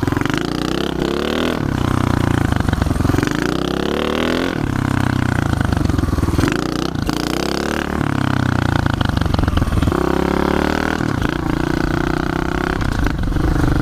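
A pit bike engine revs hard in repeated loud, rasping bursts on wet ground during a wheelie, its pitch rising and falling in surges close by.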